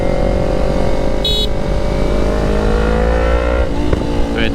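Yamaha R3 motorcycle engine running nearby, a loud steady drone with its pitch slowly climbing as it revs, then a brief surge near the end.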